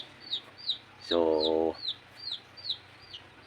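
Hens on a Basilan farm, including hybrid and bantam breeds, clucking in a repeated series of short calls, with one louder drawn-out squawk midway and brief speech at the start.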